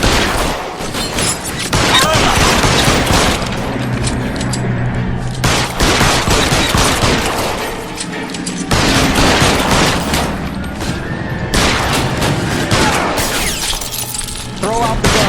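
A shootout in the crime video game L.A. Noire, on Xbox 360: dense, continuous gunfire with crashes and breaking glass runs loudly throughout, with brief lulls and a voice talking over it.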